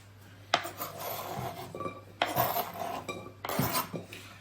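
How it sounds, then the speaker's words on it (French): Chopped chorizo and leek are tipped into a saucepan in a home kitchen, with a few sharp metallic clinks and scraping rubs of utensil on pan, close and fairly quiet, no talking. "Je mets ça dans une casserole"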